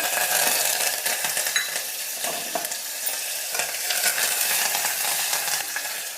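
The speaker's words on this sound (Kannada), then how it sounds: "ಎಣ್ಣೆ ಕಡಿಮೆನೇ ಹಾಕ್ತೀನಿ ಸಾಸಿವೆ ಸಿಡಿತಾ ಇದೆ" Mustard seeds spluttering and popping in a little hot oil for a sambar tempering, a dense continuous sizzle with scattered crackles, close and steady.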